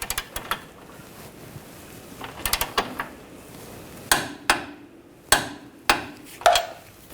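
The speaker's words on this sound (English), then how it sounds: "we'll torque this nut to 70 foot-pounds" A torque wrench tightens a rear spring nut on a 2009–2017 Volkswagen Tiguan, giving a scatter of sharp metallic clicks and knocks. They come singly and in short clusters, close and fairly loud, with no talking.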